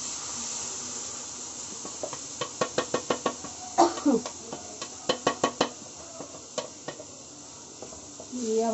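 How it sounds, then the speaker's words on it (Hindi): Ground tomato and green chili paste fries in ghee for rajma, a soft steady sizzle broken by a run of close, rhythmic stirring scrapes and spoon taps. "अब हम टमाटर भून लेंगे"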